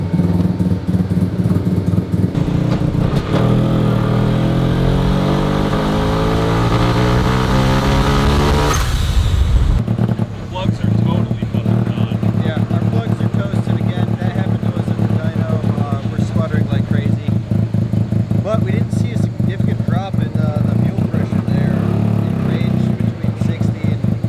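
A Mazda single-rotor rotary engine fitted with upgraded fuel parts runs in a car, a steady buzzing idle with a rising rev sweep that cuts off sharply, then resumes as a busy, uneven putter, with voices talking over it.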